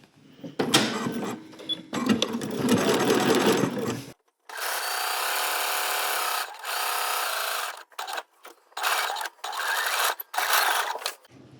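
A sewing machine stitches an underarm seam in several bursts of fast, buzzing whirring, starting and stopping with short pauses between runs, close and fairly loud with no talking.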